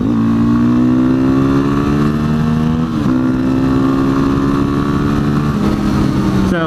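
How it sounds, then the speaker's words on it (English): A motorcycle engine runs steadily while being ridden, a loud close drone with a smooth, sustained tone that dips briefly midway and then carries on. "people probably just rather have me just ride around and listen to the motor of the bike"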